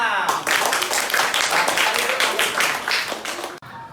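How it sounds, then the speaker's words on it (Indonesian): A group in a teacher coaching session gets a sustained burst of dense hand clapping for its presentation that fills the room for several seconds before cutting off abruptly. "kalau tidak tepuk tangan buat kelompok 6"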